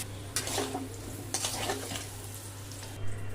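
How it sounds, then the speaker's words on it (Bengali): Potato pieces coated in salt and turmeric frying in mustard oil in a wok: a steady hiss of hot oil with two distinct spatula scrapes and stirs, heard close and with no voices. "আলুটা লাল করে ভেজে নিলাম"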